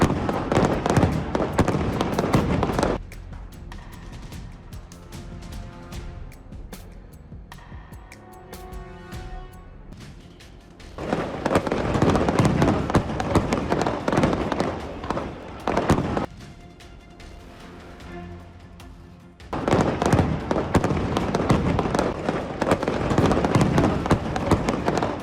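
Diwali fireworks and firecrackers in India: dense bursts of crackling explosions come in long loud waves, separated by calmer stretches of lingering pops and rumble, with no voices.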